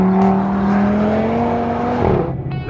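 A 2016 Audi TT RS engine howls at high revs, holding a steady, loud scream at 7000 rpm before the pitch drops sharply as it lets off.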